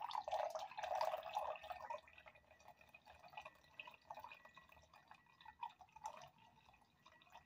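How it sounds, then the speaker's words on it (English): Coffee poured into a cup: a faint, close trickling liquid stream with dripping, strongest at first and then tapering into softer intermittent splashes. "I'm pouring a cup of coffee."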